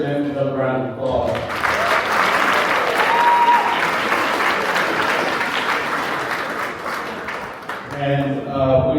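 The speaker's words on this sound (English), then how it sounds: "Okay, let's give our president another round of applause." Audience at a benefit gala applauding the president, a dense sustained wave of clapping across the room, with voices speaking at the start and end.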